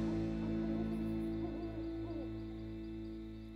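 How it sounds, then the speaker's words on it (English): A wavering, hooting call repeats several times over a steady low hum, fairly clear and unbroken by any talking. "That's the cry of the owl."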